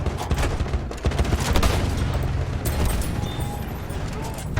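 Gunfire in Battlefield 1 gameplay: rapid bursts of shots with booms and explosions, loud and dense throughout, layered under game sounds and background chatter.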